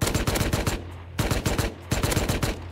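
Automatic gunfire in the survival game Rust rattles in three loud, fast bursts of shots with brief gaps between them.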